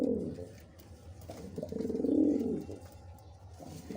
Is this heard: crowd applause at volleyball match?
no